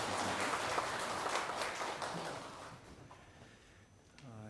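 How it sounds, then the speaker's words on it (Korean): A church congregation claps during a Korean Sunday worship service: dense, loud applause fills the first three seconds, then thins and fades toward the end. "박수 올려드리겠습니다."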